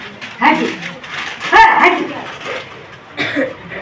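A village dog lets out three short, sharp barks spaced a second or so apart, close by, with quieter rustling between them.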